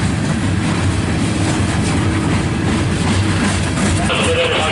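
A loaded CSX coal freight train passes slowly uphill near Germantown, giving a steady, loud rumble of rolling wagons with faint clickety-clack and a low engine drone throughout.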